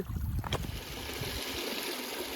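Water trickles and burbles steadily along a small creek with little pools on a high plateau in Kahurangi, New Zealand, a continuous close flowing wash with a brief louder splash near the start and no voices.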